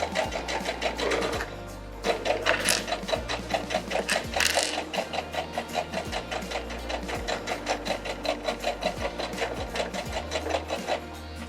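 A sewing machine stitches a seam with dark thread, running in a fast steady mechanical rhythm, pausing briefly near the start while it reverses, then chattering on continuously and close.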